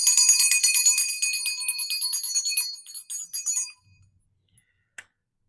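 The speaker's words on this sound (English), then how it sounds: "My mom's bell." A handheld bell rings continuously with bright, shimmering metallic tones for nearly four seconds, then fades out, followed by a near-silent pause and a single faint click at the end.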